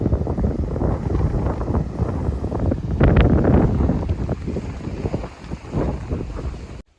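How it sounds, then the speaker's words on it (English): Strong wind buffets the microphone on an exposed Swedish shoreline, a loud continuous low roar with gusts swelling and easing, with no talk over it. "but very, very windy."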